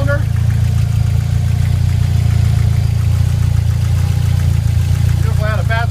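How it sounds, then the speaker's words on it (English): 1993 Jeep Wrangler with a 2.5 L four-cylinder engine, idling at a steady rumbling rhythm, close and loud throughout, with a voice speaking over it. "J&J Auto Wrecking's engine test for EPJE247. This is a 1993 Jeep Wrangler with a 4-cylinder."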